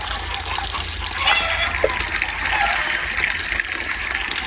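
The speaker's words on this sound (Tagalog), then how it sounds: "Ayan po't nagdidilig na si Kim." Water sprays steadily from a garden hose as vegetable plants, including climbing string beans, are watered outdoors, a continuous broad hiss with slight surges in strength.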